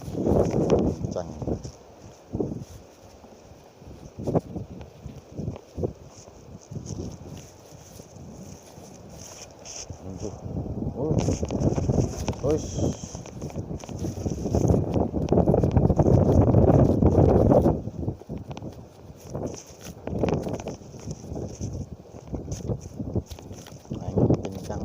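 Strong gusting wind at kilometre 6 in Timika, Papua, roaring and buffeting the microphone in uneven surges that swell loudest midway, with some faint talk underneath.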